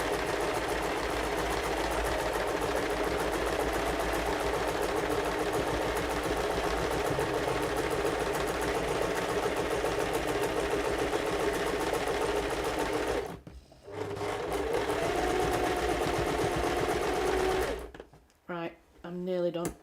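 A sewing machine backstitches a bag, running in a fast, steady mechanical chatter close by, pausing briefly midway, then a few short bursts and stops at the end.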